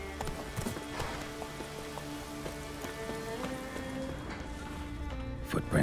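Hooves of Roach, a horse in the video game Witcher 3, clip-clopping in a steady walking rhythm, close and clear, over a soft patter like rain.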